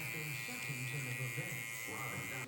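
Electric hair clipper with a 1.5 guard and open lever buzzing steadily through hair during a bald fade, a close continuous hum with a voice talking over it.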